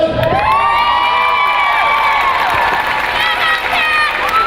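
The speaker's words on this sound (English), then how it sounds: "I would like to have a huge Madison round of applause for Hellcat" Loud roller derby crowd cheering, whooping and applauding at a season finals bout, with children shouting amid the sustained roar of a packed audience close by.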